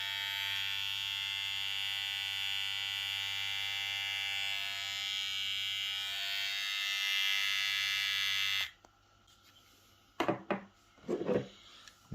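A Hatteker SK 1609 hair clipper runs with a steady, loud electric buzz for about nine seconds, then shuts off, followed by a few brief clicks and handling noises.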